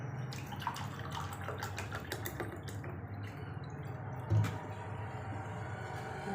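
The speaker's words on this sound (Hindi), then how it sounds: "अब इसमें वाटर ऐड करूँगी" Water being added to a pan holding a cup of sugar for syrup, a soft trickling and dripping pour with small splashes, faint and close, with a brief knock partway through.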